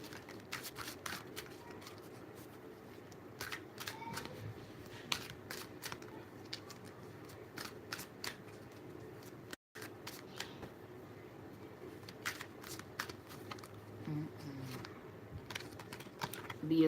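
Tarot cards being shuffled and handled at close range, a long run of soft rapid flicks and riffles with brief pauses, quiet and steady, no talking.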